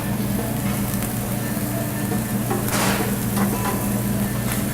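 Lemon pepper trout sizzles in a black cast iron skillet in a riverside restaurant kitchen, giving a steady, even crackle throughout with faint background clatter.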